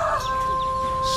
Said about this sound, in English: There's so many chicken here